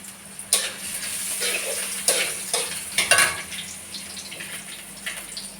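Garlic, cumin and ginger go into a hot frying pan, bringing a close sizzle broken by several sharp clinks and stirring scrapes of utensil against pan.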